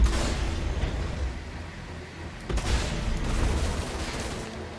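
Omnisky 4 cannons on an Origin 300i touring ship fire a dense, rumbling stream of shots in a space combat game, steady and loud with a brief surge partway through.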